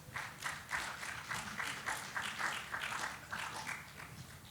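Audience clapping for a panelist at a regulatory panel discussion, a steady patter of many hands at moderate distance that swells in soft waves and tapers slightly at the end.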